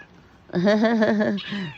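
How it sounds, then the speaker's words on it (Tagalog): A house cat lets out a long, drawn-out meow with a wavering, whiny pitch, close and fairly loud, followed by a shorter trailing cry after a quiet start. "Ito, merong isang pusa pumasok."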